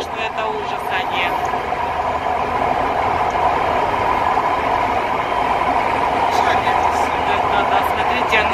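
A driverless metro train races through an underground tunnel in Istanbul, giving a steady, loud rumble and rail roar with a constant hum throughout. A voice is heard in the carriage over the noise.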